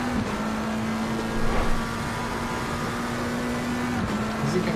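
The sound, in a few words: Ferrari race car engine in video game Assetto Corsa Competizione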